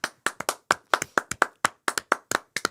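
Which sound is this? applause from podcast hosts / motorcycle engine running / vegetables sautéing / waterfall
applause from podcast hosts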